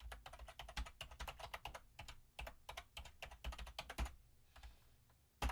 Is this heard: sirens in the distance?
no